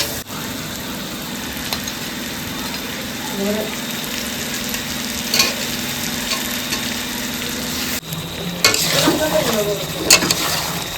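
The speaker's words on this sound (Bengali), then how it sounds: "মাংসটা প্রায় কষানো হয়ে এসছে একটু ঝোল শুকালে আলু দিয়ে একটু কষিয়ে ভরিয়ে দেবে" Meat being slow-fried as kosha in a pan sizzles steadily up close, with occasional stirring scrapes and a louder burst of frying near the end.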